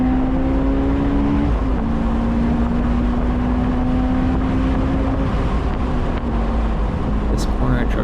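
A supercharged Honda S2000 drives hard through a track corner, its engine droning loud and steady with a shifting pitch under continuous road and wind noise, while someone talks over it.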